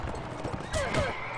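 Horse hooves clatter in Mount and Blade Warband during a mounted battle, with a whinny-like call, a mix of fast clopping and combat noise lasting just over a second.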